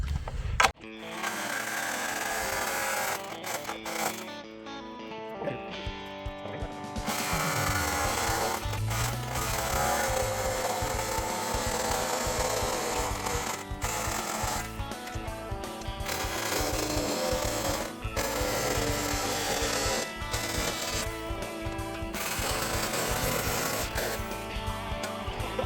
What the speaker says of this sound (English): he's going to take his trusty Sawzall, and he's got some aluminum stock here